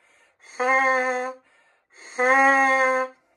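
Two sustained trumpet notes, each opening with a soft breathy onset rather than a crisp attack, separated by a short pause.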